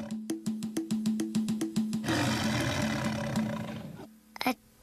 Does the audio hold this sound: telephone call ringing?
no